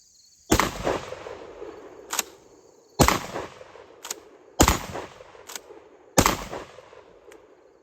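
Horizontal magazine-fed shotgun firing on an outdoor range: four loud, sharp blasts about one and a half seconds apart, each trailing into echo, with fainter cracks between them and no talking.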